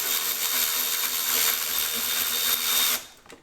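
An electric ratchet whirs steadily for about three seconds as it loosens a strut bolt during a car suspension job, close and loud, then cuts off abruptly.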